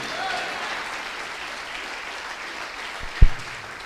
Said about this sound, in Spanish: Aplauda al Señor y a su nombre.